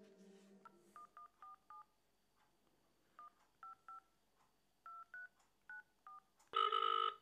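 A telephone keypad sends a string of about fifteen short dual-tone dialing beeps in quick irregular groups, clear and close, ending with a louder sustained ringback tone.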